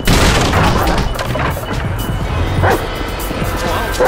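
Chop the dog barks in GTA V, a few loud, close, gruff barks mixed with thumps and crashing game noise, with voices around them.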